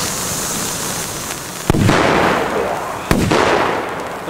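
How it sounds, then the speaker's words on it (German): A Turbo Color Whistling Thunder firework shell bursts amid a night fireworks display, giving two sharp, loud bangs about a second and a half apart over a hissing, crackling background. "Ich glaube, das war ein Turbo Color Whistling Thunder."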